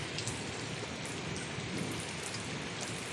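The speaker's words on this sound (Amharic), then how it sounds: "ዛሬ ዝናብ እየወረደ ይገኛል፣ እየዘነበ ይገኛል።" Steady rain falls in a dense, even hiss, drops pattering on a surface nearby with no voices.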